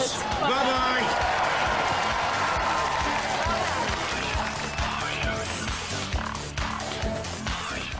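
Studio audience applauding and cheering for newly crowned Robot Wars UK champions holding the trophy, a loud sustained wash of clapping lasting throughout, with some voices mixed into the crowd noise.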